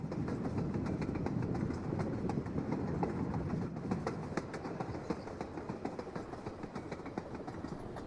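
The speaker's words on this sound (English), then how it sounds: "We're driving the train." Train wheels clatter over rail joints with a fast, even clickety-clack beneath a constant rumble in the video game Short Trip, heard close and steady for several seconds without any voices.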